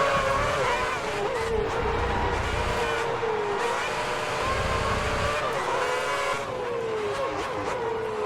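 A Lotus F1 race car in a video game revs hard and accelerates, its high engine whine rising and shifting through gears with tire squeal, loud and continuous, while a voice talks faintly underneath.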